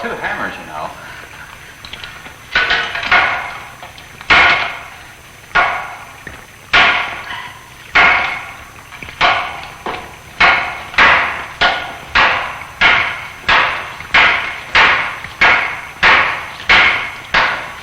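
Hammers strike an underground rock wall in repeated heavy blows, sparse at first then settling into a steady rapid rhythm of sharp cracking impacts, loud and close, with faint talk early on.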